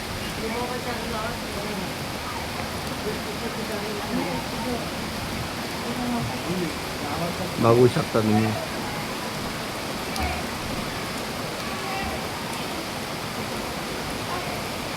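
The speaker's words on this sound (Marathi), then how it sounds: "आवाज ऐकू शकता तुम्ही पावसाचा।" Steady, dense hiss of heavy rain pouring continuously in Nashik in the afternoon, with someone speaking briefly over it near the middle.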